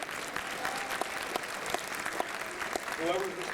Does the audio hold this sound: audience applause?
yes